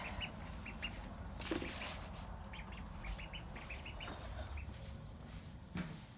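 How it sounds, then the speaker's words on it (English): Several ducklings quack and peep in short scattered calls indoors over a steady background rumble, fairly close. "Hey, no ducks in the house."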